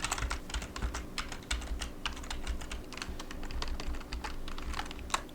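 Computer keyboard typing at a steady pace, quiet and close, with rapid irregular key clicks and no voices.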